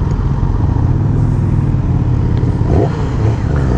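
A 2020 Yamaha R6 sport motorcycle engine roars loudly and close, revving up and down with a rising pitch sweep partway through, steady and rough.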